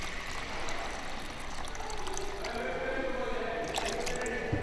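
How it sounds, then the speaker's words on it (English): Water pours into a bowl for mixing casting plaster, a steady trickling, dripping wash running throughout at close range with faint splashes as the bowl fills. "I'm going to half fill this with water and just sprinkle in some casting plaster"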